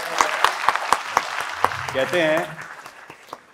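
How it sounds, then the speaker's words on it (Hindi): An audience in a lecture hall claps for a teacher, a series of sharp, evenly spaced claps, then a short stretch of talking, with a few scattered claps after. "जोर से ताली बजाओ"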